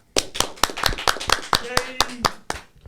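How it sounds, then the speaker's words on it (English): A small audience claps in a loose burst of about a dozen distinct hand claps at an uneven rhythm, fairly close, with a voice briefly heard over the claps. "Somebody clap."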